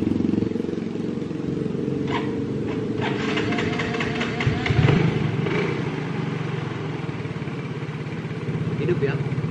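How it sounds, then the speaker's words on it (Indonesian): A fuel-injected motorcycle that stalls when ridden idles steadily nearby with a constant low rumble and rapid putter, some clicks and brief voices over it. "Tinggal kita hidupkan dulu motornya."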